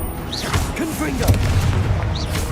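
A Confringo blast spell from Hogwarts Legacy on PS5 Pro, heard as booming impacts and whooshing bursts over a busy game soundscape with swooping tonal effects, one near the start and another near the end.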